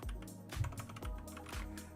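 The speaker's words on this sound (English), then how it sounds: "Hope you guys can hear that clickety clack keyboard." A clicky computer keyboard is typed on continuously, with quick, close clacks in an uneven rhythm at a modest level. No voices are heard.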